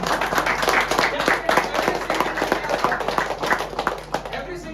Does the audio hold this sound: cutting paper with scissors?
no